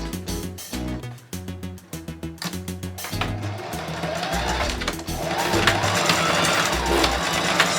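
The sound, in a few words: sewing machine stitching a denim scrunchie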